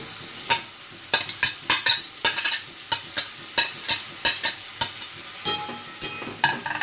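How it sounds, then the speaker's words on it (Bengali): Spices with cauliflower and potato sizzling in hot oil while a spoon or spatula scrapes and stirs the pan in quick repeated strokes. The sound is close and steady, with no talking. "এবার আমি মশলাটাকে সুন্দর করে সাঁতলাবো"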